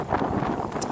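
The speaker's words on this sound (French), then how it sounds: "Il y a plein de vent, c'est ici, je sais pas, mais il y a vraiment beaucoup de vent par rapport à là-bas." Strong wind blows through a cedar forest, heard as a continuous rough roar and buffeting against the microphone with small surges, steady throughout with no voices.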